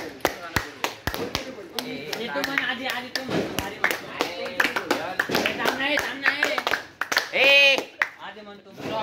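A group out at night claps hands in sharp, roughly regular beats close by, while several voices talk and sing over the clapping throughout.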